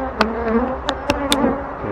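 Honey bees buzz steadily at an opened hive during a September inspection. A continuous close drone is broken by a few sharper passes as single bees fly near, and no one speaks.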